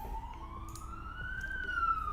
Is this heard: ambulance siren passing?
yes